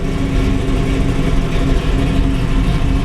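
A 1969 Chevy Camaro with a 572 V8 idles loud and close, a thick, steady rumble with a low, lumpy throb and no talk over it.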